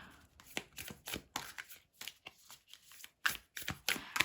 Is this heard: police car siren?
no